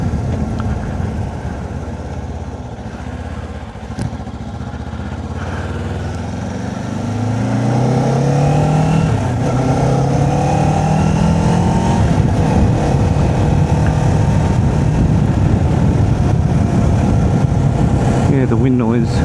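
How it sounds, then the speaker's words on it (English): Steady roaring wind rushes inside a Ruroc EOX motorcycle helmet while riding, building as speed rises and holding as a broad, loud whoosh with engine drone beneath. "The wind noise, there's still wind noise, but probably not as bad as the HJC."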